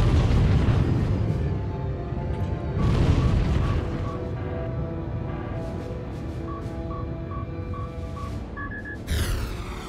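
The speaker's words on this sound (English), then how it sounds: "Sit back and launch the proton torpedoes." Proton torpedoes launched from a starfighter in a Star Wars: The Old Republic space battle, heavy booming blasts and rumbling explosions, with repeated electronic beeping tones and a sharp burst near the end.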